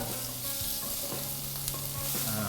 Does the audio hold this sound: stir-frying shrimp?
yes